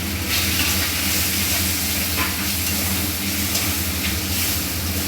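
Tomato is added to ginger frying in a pan for a vegetarian vegetable dal, giving a steady, close hissing sizzle with soft stirring throughout and no voices.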